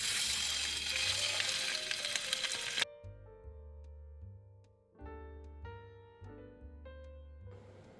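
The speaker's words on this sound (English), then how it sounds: "So it's time to sear the ribs. I'm going to use some sesame seed oil to sear." Beef ribs sear in hot sesame seed oil with a loud, dense sizzle for about three seconds, then the sizzle cuts out and soft tonal kitchen sounds with low hums take over.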